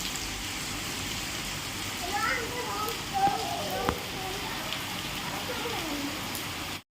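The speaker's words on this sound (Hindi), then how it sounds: "और बारिश इतनी तेज़ हो रही है" Steady, dense patter of rain fills the clip, constant and close, with faint voices murmuring underneath.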